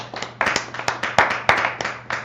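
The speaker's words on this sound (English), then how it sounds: "Let's clap it up for the Most High God." Audience members clap in praise of the Most High God at a street gathering, a few loose rhythmic claps close by, uneven and sparse rather than a full ovation.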